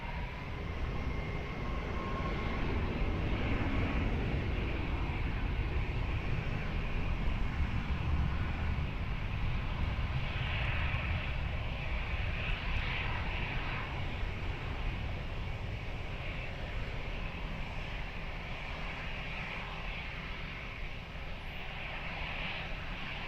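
An airliner taking off from runway 16 at Lisbon Airport, a broad, sustained engine rumble and roar lasting over twenty seconds at moderate distance.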